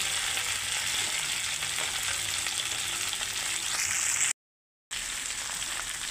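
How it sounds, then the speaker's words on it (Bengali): Potatoes frying in hot oil in a pan, salted, giving a steady close sizzle and crackle throughout, with a brief dropout near the end and no talking. "এখন আমি রেসিপি করার জন্য আগে আলুগুলোকে ভেজে নিচ্ছি।"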